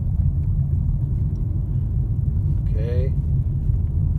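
A vehicle driving along a rural road, a steady low engine and tyre rumble running throughout beneath a man's brief spoken remark.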